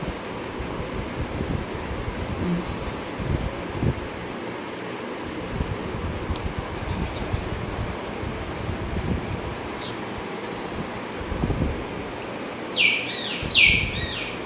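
Faint mynah bird chirps over a low rumbling background, with a couple of brighter tweets near the end; no one speaks.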